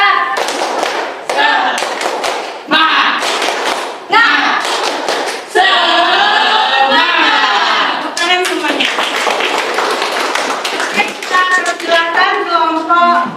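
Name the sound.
group doing a rhythmic spirit clap (tepuk semangat)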